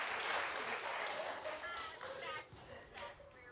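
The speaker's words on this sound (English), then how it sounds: "guys keep the claps going" A studio audience on a daytime talk show claps and applauds steadily throughout, a dense wash of hand claps that thins slightly toward the end.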